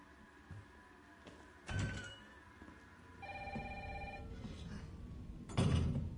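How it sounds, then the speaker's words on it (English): Telephone in the Resident Evil 3 video game ringing in a clear repeated electronic tone, heard against low game ambience and occasional thumps. "Don't answer the phone, Jill."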